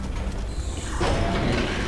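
Mechanical shutter grinding open in Dead Space 3, a steady rumbling clank that swells louder about halfway through, with no voices over it.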